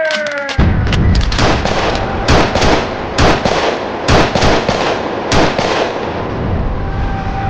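Gunfire volley in a dramatization of the 1919 Jallianwala Bagh massacre in Amritsar, a sudden loud onset of dense, sustained rapid shots and cracks that roll on for several seconds over a roaring background, with no talking.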